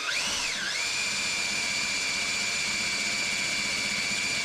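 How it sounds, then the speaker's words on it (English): A steel pilot drill bores slowly into a steel suspension control-arm rivet, a loud continuous whine that dips in pitch early on then holds steady, close and alone. "You don't go too fast with a steel drill on steel."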